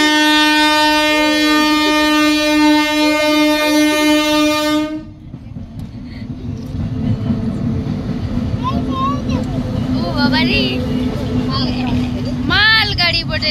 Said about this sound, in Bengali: মাল গাড়ি পড়ে রে